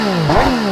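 A 2022 MV Agusta Dragster 800 RR with a three-outlet exhaust revs up close and loud, a brief rising engine snarl that climbs and eases back within a second, no talk.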